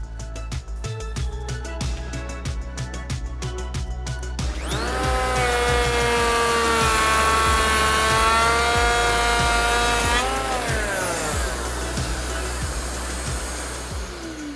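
A Festool EHL65EQ one-handed electric planer runs up and shaves timber, a loud, steady high whine with a strong tonal pitch that holds for several seconds, then winds down, close and alone.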